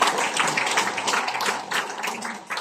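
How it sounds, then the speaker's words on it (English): An audience of coat-and-tie-wearing leaders claps, a dense continuous patter of many hands at moderate distance that carries steadily through the whole clip. "can you give yourselves a big round of applause?"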